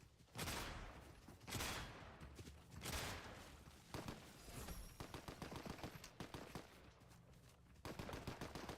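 Video game gunshots crack out in repeated bursts, single loud shots followed by rapid machine-gun-like strings, close and punchy with short gaps between volleys.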